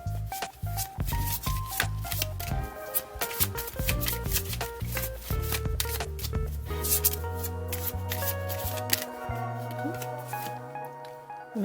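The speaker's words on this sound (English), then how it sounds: "I am going to shuffle my spellcasting deck till we get some cards." A deck of spellcasting tarot-style cards is shuffled close up, with steady riffling, rubbing and flicking of cards against each other. Soft background music plays throughout.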